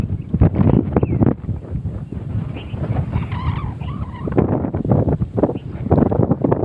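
Strong wind gusts across a dragon fruit farm in Kutch, Gujarat, between Mandvi and Bhuj, roaring and buffeting right at the microphone in loud, continuous rumbling waves, with a faint higher call partway through.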